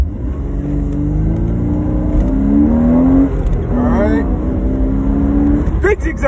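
A Porsche Boxster engine revs and rises during a driving-school swerve drill, with loud shouting voices over the drive and the pitch climbing and dropping through the zigzag.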